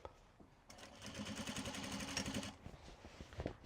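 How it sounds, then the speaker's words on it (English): Sewing machine stitching wax canvas for an upcycled obi tote, a steady rapid mechanical whir that starts abruptly, runs about two seconds close up, then stops, followed by light handling clatter. "it is definitely stitching the wax canvas nicer"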